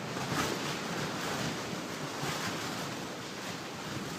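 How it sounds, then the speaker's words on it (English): Strong wind roars steadily against the microphone outdoors, a loud continuous rushing with slight swells and no voices. "my movements are making the wind blow really hard. So if you hear that, that's what's happening."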